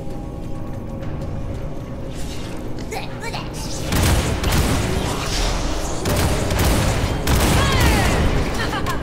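Bombard unit under attack in the War For The Overworld game: dense battle noise of booming impacts, crackling gunfire-like bursts and clattering mechanisms, growing louder midway and continuing steadily, with a game announcer voice over it.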